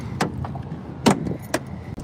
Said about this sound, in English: I gotta move my car.